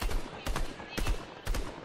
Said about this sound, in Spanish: Aquí hay tiros, aquí hay gente liándose.